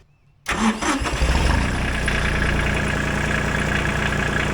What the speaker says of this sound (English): Let's start up this Ford 1520 and see what this 3-cylinder Shibora engine sounds like.